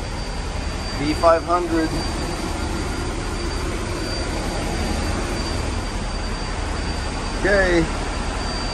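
Air conditioning runs aboard a 2012 MCI E4500L coach bus with a Cummins engine and Allison transmission, a loud, steady rushing roar that fills the whole stretch while a voice speaks briefly near the start and end.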